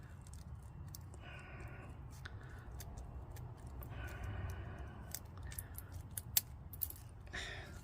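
Quiet, close scissor snips cutting tape for a Tesla Model Y tow hitch cover, a few short crisp cuts with faint handling clicks in between.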